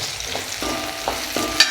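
Onions sauté in a pan for mutton bone curry, giving a steady sizzle broken by a few scraping stirs and a faint clink.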